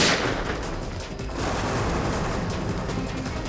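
Rapid gunfire in a TV drama scene, shots fired at a man running away; a dense, loud burst of cracks opens the clip and continues as a sustained, noisy barrage throughout.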